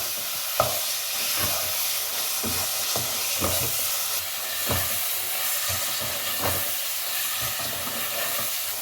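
Turnip curry cooks in a pan with a continuous hiss and sizzle, broken by repeated spoon scrapes and taps as it is stirred, close up with no talking.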